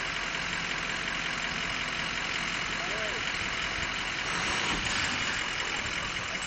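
Porsche 944 engine idling steadily in a repair shop, given a gentle blip of throttle near the end, a low continuous rumble heard close up with faint talk in the background.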